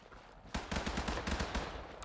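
Rapid bursts of gunfire from allied soldiers in the WWII shooter Days of War: a sudden loud start, then fast repeated shots, machine-gun style, running steadily to the end.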